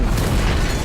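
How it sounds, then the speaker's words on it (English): A hefty explosion in the video game Sniper Elite 4 fills the short moment with a loud, dense boom and a rumbling blast that carries all the way through, with no voices over it. "that's a hefty explosion"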